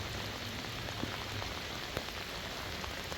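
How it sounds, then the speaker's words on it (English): Steady heavy rain falling on a fishing trip while sturgeon fishing, a dense continuous patter of drops close to the microphone, with a few louder individual splats and no talk. "keep my camera a bit drier because it's not liking this rain"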